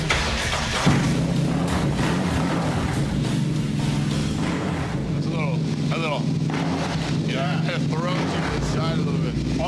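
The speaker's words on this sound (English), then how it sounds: "Custom exhaust, one-off exhaust. It's a badass sounding bike." A motorcycle with a custom one-off exhaust rides along the Pacific Coast Highway in California, its engine note a steady loud rumble mixed with wind, and someone speaks briefly over it.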